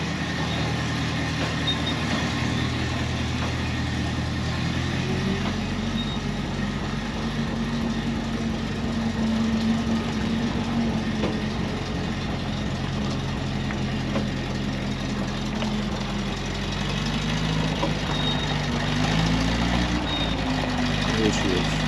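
A Ferret armoured car, a military vehicle at a museum, runs with a steady low engine rumble that holds throughout and swells slightly as it approaches, with people talking over it.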